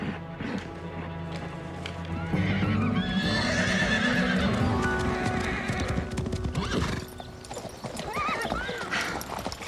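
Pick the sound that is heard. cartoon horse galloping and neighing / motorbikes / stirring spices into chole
cartoon horse galloping and neighing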